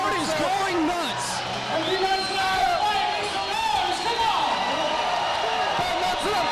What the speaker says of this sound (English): Can you hear this crowd?